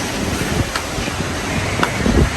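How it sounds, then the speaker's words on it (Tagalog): Strong typhoon wind in Manila buffets the microphone with a constant, loud roaring rush, gusting slightly harder toward the end, with no talking. "Mahangin pa din, no?"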